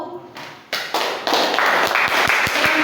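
A classroom of students applauds a student group, the clapping starting sparse and swelling into steady, dense applause from the whole room.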